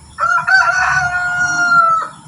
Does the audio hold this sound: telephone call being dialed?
no